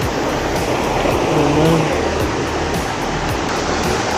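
Mae Ramoeng waterfall pours in a loud, steady rush of broadband water noise heard close by, unbroken for the whole stretch.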